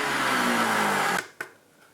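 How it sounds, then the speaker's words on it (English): A blender roars steadily while grinding green tea leaves, a loud, continuous motor whir that stops abruptly, followed by a brief clack and near silence. "say, put them in a blender"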